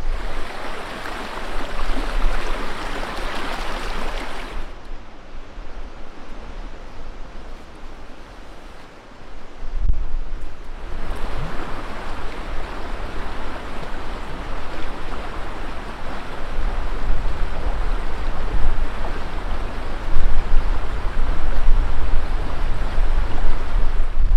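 River rapids rush over boulders in a steady, loud, close roar of churning water. The roar dips briefly before it swells again, and no one speaks.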